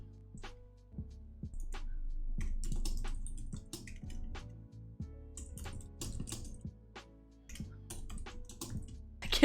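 Someone types on a computer keyboard in short, uneven bursts of clicks separated by pauses, with a low hum running underneath.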